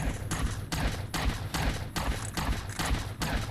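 Gunfire in the modded video game Fallout: New Vegas, a loud, regular series of sharp bursts repeating roughly every half second over a dense noisy backdrop.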